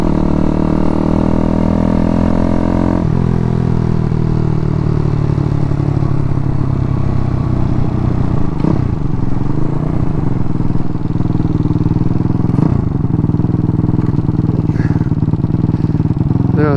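Daytona 212cc engine on a Grom clone motorcycle starts up for the first time, a loud, close, steady idle whose tone shifts slightly after a few seconds, with brief rev blips and clattery mechanical rattle throughout.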